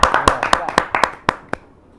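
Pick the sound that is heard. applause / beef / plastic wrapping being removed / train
applause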